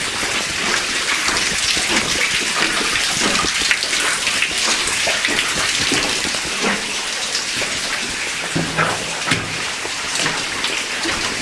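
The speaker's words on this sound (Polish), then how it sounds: "ponieważ tu jak widzę wody jest naprawdę bardzo dużo" Water rushes and splashes steadily through an old mine adit, a loud, continuous gushing close by with no voices.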